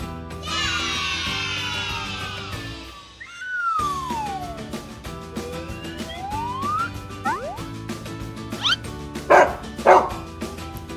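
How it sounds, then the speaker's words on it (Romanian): A dog barks and yips several times in quick bursts near the end, following whistling and sliding tonal sounds, fairly loud and close with no speech over it. "E un câine!"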